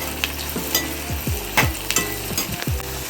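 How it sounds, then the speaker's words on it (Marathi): Sliced onions sizzle and crackle in hot oil for chicken biryani, with a spoon stirring and scraping the pan in several sharp strokes over a steady frying hiss. "हे थोडंसं मीठ टाकायचं म्हणजे पटकन असं तळल्या जातं कांदा."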